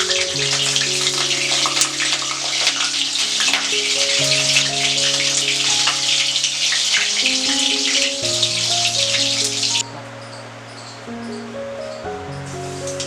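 Pointed gourd (potol) sizzles in hot oil with a loud, steady hiss and crackle that drops off sharply near the end, while background music plays over it.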